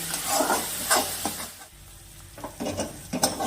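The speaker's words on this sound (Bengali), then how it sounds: "টমেটো কাটা লঙ্কা গুঁড়ো মশলাটা কষিয়ে নেব" Tomato, chili powder and spice masala being stirred and fried in a pan for a mustard pabda fish dish, with a steady sizzle broken by scraping stir strokes, close and fairly loud, no talking.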